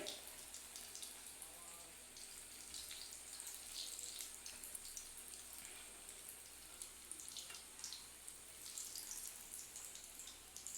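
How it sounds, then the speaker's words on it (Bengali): Chops of pointed gourd coated in gram-flour batter fry in hot oil, giving a faint, steady sizzling hiss scattered with small crackles and pops throughout, quiet and without speech. "এইবার আমি তেলের মধ্যে এটা ছেড়ে দিলাম দুটো দুটো করে ভাজতে হবে"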